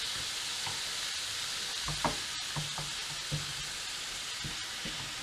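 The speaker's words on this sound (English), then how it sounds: "We're going to want to fry those off until they soften." Onions, mushrooms and peppers fry in a pan with a steady, fairly quiet sizzle, broken by a few soft clicks and scrapes of stirring, and no voices.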